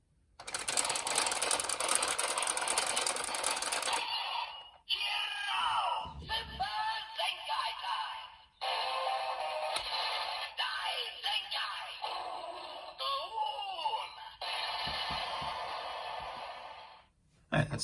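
A DX Zenkai Buckle toy from Kikai Sentai Zenkaiger plays its electronic Super Zenkai sound effect, a loud, bright burst of music and voiced announcements in several bursts separated by short gaps, closing with a final blip.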